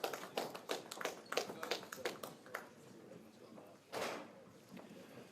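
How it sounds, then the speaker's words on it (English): Applause at a local election count, a burst of scattered clapping from a gathered crowd that thins out after a few seconds, with a brief louder rustle near the end. "So, applause for Sarah Pochin."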